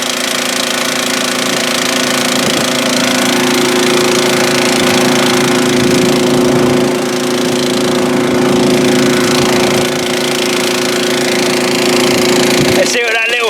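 A petrol engine drives a gasoline air compressor, running steadily for the whole stretch with a loud, even drone and a rapid mechanical knock, briefly dipping before a sharp clatter near the end.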